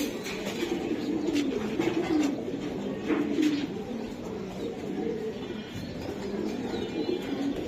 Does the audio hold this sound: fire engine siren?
no